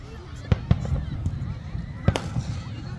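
Fireworks at a July 4th show bursting with a few sharp, fairly distant booms and pops spread over a few seconds, set against a background murmur of crowd noise.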